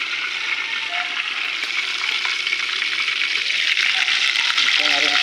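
Food frying in a pan for lunch, a loud, continuous close sizzle that holds steady throughout and swells slightly near the end, with faint kitchen clinks.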